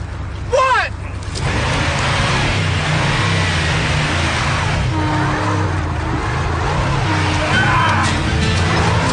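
A car engine revs hard and steadily, trying to gain traction, a loud sustained mechanical drone with rising pitch sweeps, while people shout over it.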